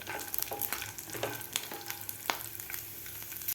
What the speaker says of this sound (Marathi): भाजून घ्यायचं आहे तेलामध्ये ते शेंगदाणे व्यवस्थित खरपूस होईपर्यंत आपल्याला शेंगदाणे भाजायचे आहेत